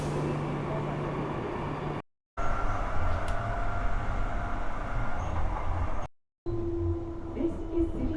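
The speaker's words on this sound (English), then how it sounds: "The train is finally here." A train pulling into a Perth station platform, a loud rumbling roar of wheels and rail noise with short breaks, a humming tone rising near the end.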